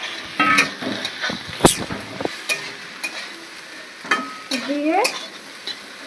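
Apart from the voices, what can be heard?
fried fish added to potatoes and pointed gourd, stir-frying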